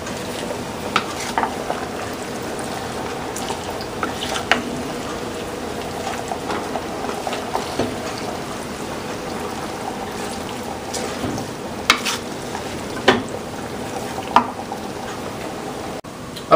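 Stirring a pot of chili with vegetables in tomato sauce: soft, continuous bubbling and sizzling with scattered scraping and clinking of the spoon against the pot, steady and close, without talk.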